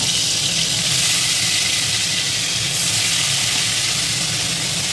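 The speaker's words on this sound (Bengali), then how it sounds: "এতে এবার ম্যারিনেট করা রুই মাছগুলো আমি ভালো করে ভেজে নেব।" Marinated rohu fish pieces fry in hot mustard oil, giving a steady, loud, close hiss and crackle that carries on without a break and without any voices.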